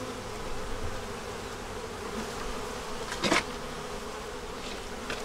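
Honey bees drone steadily around open beehive frames holding the queen, eggs and brood. The buzzing is a dense, continuous hum, with one louder bee passing close for a moment midway.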